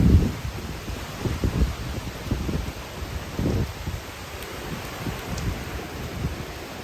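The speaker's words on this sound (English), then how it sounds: "Oh, here comes some gusts still." Blustery hurricane wind gusts buffeting the microphone in uneven low rushes, with a faint rustle of leaves behind them.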